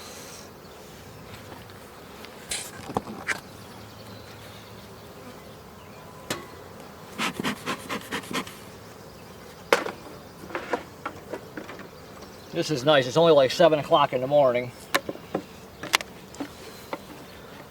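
Honeybees droning around an outdoor beehive on a sunny morning, a faint steady hum with occasional louder close passes and a buzzing burst near the end, under brief casual talk from a beekeeper.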